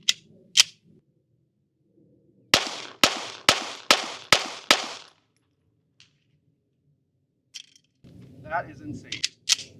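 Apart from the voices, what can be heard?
Bul Armory 2024 Tac Pro pistol firing shots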